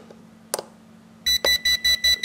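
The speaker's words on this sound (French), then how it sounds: "Ça fait que de faire des bips, ça veut dire qu'on est en mode IOC." A short click, then a rapid series of five loud electronic beeps in an even rhythm from a Hubsan X4 Cam Plus drone remote controller entering IOC mode, close and sharp over a faint hum.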